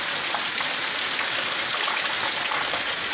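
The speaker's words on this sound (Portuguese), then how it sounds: "E muita chuva." Heavy rain pours down steadily on a rainy day in northern Minas Gerais at Monte Azul, a dense, loud, unbroken hiss of water with no pauses.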